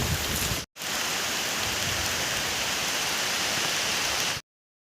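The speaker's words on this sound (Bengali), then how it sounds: "আজকে সকাল থেকেই প্রচণ্ড পরিমাণে বৃষ্টি হচ্ছে" Heavy rain pours onto a road along a path walked on foot, a loud, dense, unbroken hiss close around the listener, broken only by a brief dropout early on and a silence at the end.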